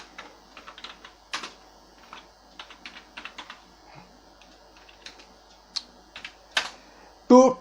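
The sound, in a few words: typing code on a computer keyboard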